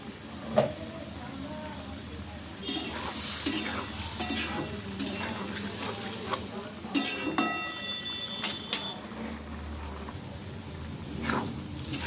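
Bitter gourd is stirred in a pan with poppy seed paste and oil, giving intermittent scraping, light sizzling and sharp clinks of a spoon against metal, close by.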